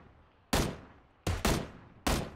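Gunfire in the PUBG shooter game: four sharp, loud shots in an uneven rhythm, each trailing off in a short echo, with no talking over them.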